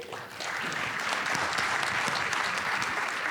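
Steady applause from a panel-discussion audience at a defense and economic forum on Guam, starting softly and swelling within half a second into full, even clapping that holds to the end.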